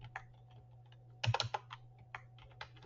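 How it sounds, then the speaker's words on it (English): Fingers type briefly on a computer keyboard, a few scattered close clicks and then a quick denser flurry of keystrokes over a faint background hum. "I'm going to type in coffee"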